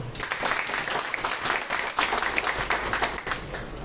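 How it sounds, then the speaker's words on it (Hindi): A seated audience at an Indian company's business seminar claps loudly and continuously, an even rattle of many hands throughout. "एक बार जोरदार तालियां उनके लिए।"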